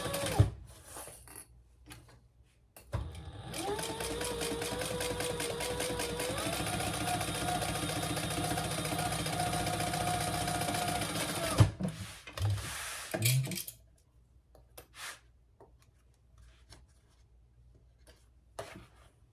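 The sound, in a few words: sewing machine top stitching a bag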